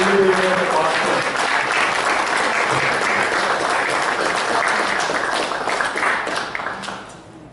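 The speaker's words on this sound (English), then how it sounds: "just a round of applause for Howard" Awards ceremony audience at a golf club applauding an honoree, sustained loud clapping that carries steadily and fades near the end, with some voices mixed in.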